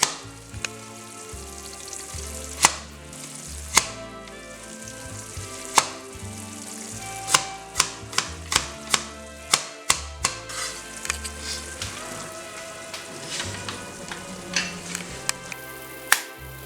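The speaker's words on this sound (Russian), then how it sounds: "Мясо прожарилось до той кондиции, как мне нужно." Meat frying in a kazan for Bukharian Jewish plov, oshi sirkanu: a steady close sizzle runs throughout, broken by repeated sharp clanks of a utensil stirring against the pot.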